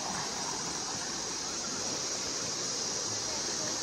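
Flowing river water on the North Fork River near West Plains, Missouri, a steady, dense rushing wash, fairly close and unbroken, with no talk over it.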